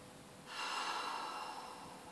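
A single deep breath drawn in during a calm guided meditation, a soft airy rush that swells after a brief quiet start and holds steady, close and fairly gentle, with no talking.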